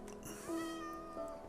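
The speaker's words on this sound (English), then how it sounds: "Cat." A cat meows twice, a drawn-out tonal cry followed by a shorter one, close and clear in a quiet room.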